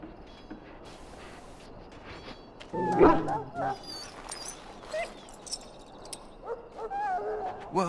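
A dog in the video game Dragon Age Origins barks in short yips and whimpers in repeated bursts, fairly close and clear over a low background, with a voice briefly present.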